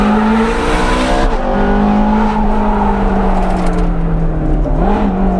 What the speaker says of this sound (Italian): per sentire meglio lo scarico che riecheggia nella vallata e soprattutto in questa parte rocciosa